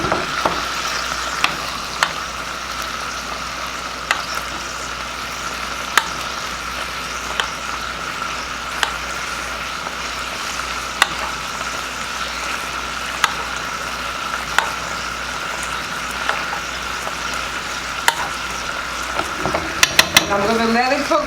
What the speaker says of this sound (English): I'm going to let it cook for about another 3 minutes because I like my steak medium rare.